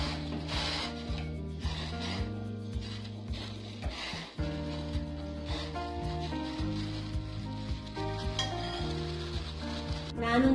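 Pasta tipped into a hot pan and stirred while cooking instant veg pasta, a steady close sizzle with scraping stir strokes running throughout, no talk.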